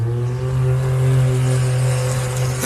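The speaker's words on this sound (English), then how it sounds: "It sounds like Tom Stevens has got his side-by-side away" A side-by-side off-road vehicle engine drones steadily at a 4x4 adventure park race, with a sustained, even revving tone, loud and close throughout.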